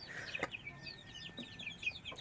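A mother hen clucks softly up close while her newly hatched chicks peep in quick high-pitched bursts, all quiet and steady.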